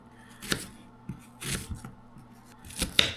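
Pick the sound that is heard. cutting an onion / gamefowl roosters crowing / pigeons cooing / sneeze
cutting an onion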